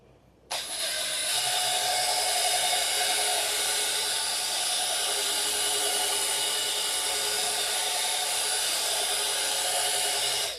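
A power tool starts abruptly and runs as a steady, loud, whirring drone for about ten seconds while material is sanded and rubbed off an airplane part, then cuts off at the end. There is no talking.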